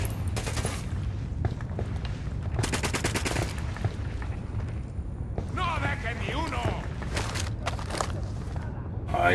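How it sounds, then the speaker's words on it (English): Bursts of automatic gunfire crackle through a firefight in Ghost Recon Wildlands, loud volleys starting and stopping over a low rumble, with players talking in between. "Where are they shooting from?"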